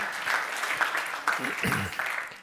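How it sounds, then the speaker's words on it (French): An audience at an award ceremony for the CCR Cat Nat 2024 prize claps steadily through the moment, a dense, fairly close wash of applause with a voice speaking briefly over it. "je pense qu'on peut tous l'applaudir"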